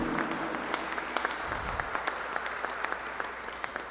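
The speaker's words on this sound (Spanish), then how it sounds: "El aplauso, por favor." An audience at a Concacaf and Costa Rican football federation ceremony applauds, a soft, continuous patter of clapping with a few sharper individual claps, heard from a moderate distance under a low background hum.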